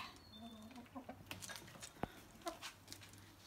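Chickens cluck in short, scattered bursts at close range, with a sharp peck or knock midway and faint background noise.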